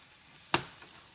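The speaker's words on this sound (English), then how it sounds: "the sizzling noise the batter makes when it hits the pot, the pan" Bánh xèo batter hits a hot pan with one sudden, close sizzle that flares loudly and then fades into a softer hiss.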